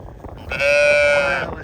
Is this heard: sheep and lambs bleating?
yes